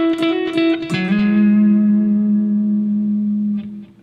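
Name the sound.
electric guitar lick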